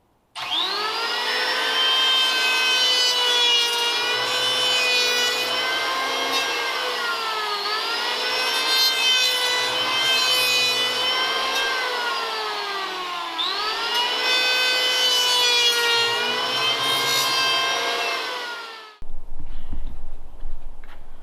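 Power planer cutting down a high rubbing spot on a wooden barn door, a loud, close, high-pitched motor whine running in three long passes with slight pitch dips, then stopping abruptly into a short rustle at the end.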